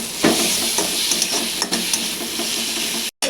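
Sliced onion sizzles steadily in hot oil with turmeric, cumin, salt, sugar and crushed ginger-garlic, a dense close frying hiss broken by a few scraping stirs, cutting out abruptly near the end.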